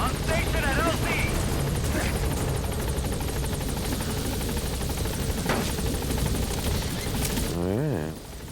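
A helicopter from Metal Gear Solid V: The Phantom Pain arrives at a landing zone, its loud steady rotor thrum and engine whine filling the scene continuously before easing near the end.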